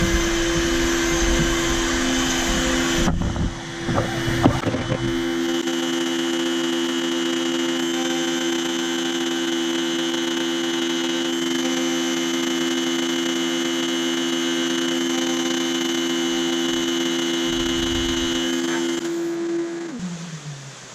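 Longmill CNC router cutting around a clamp, a loud steady spindle whine with a vacuum-like roar running unbroken for about twenty seconds, with a brief clattering burst near the start and a winding down at the end.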